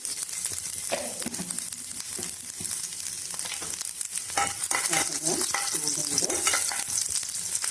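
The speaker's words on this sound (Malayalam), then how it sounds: "കടുക് പൊട്ടി വരുന്നുണ്ട്" Mustard seeds popping in hot oil with sliced small onions, a dense close sizzle peppered with rapid sharp pops and crackles that grow busier toward the end, no voices.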